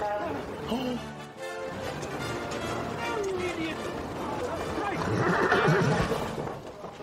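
A horse neighs and whinnies during carriage driving, its call rising clearly over someone talking to the horses, with faint hoof movement beneath.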